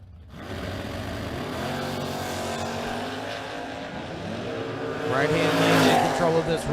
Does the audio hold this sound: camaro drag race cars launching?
yes